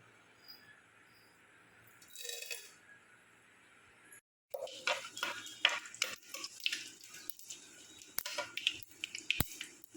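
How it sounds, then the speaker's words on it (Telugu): Tempering spices hit hot oil in a kadai on a lit stove while a potato curry is being started, giving a dense, crackling sizzle with sharp pops that starts abruptly after a short quiet gap and continues to the end. "పోపు దినుసులు వేసుకుంటున్నా."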